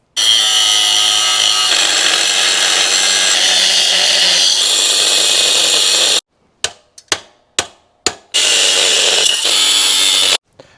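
A flap disc on a grinder smooths metal tabs on a 1975 Honda CB500T motorcycle frame, droning loudly and continuously, then stopping for several short bursts, then running steadily again.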